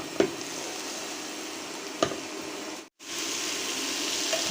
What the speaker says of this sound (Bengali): একটু সবুজ সবুজ করে পেঁয়াজ কাঁচামরিচ আর লবণ দিয়ে ঢেঁড়স ভাজি করে নিলাম